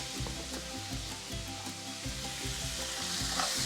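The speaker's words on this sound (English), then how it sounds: "We're going to add that in, and we're going to allow this to sear." Beef for carne en su jugo sears in a pan with garlic and white onion, giving a loud, steady, crackling sizzle close up, with no voices.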